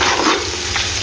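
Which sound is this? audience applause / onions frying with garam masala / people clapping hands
onions frying with garam masala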